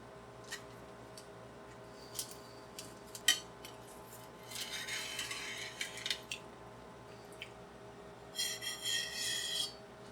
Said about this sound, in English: I'm going to cut one more piece.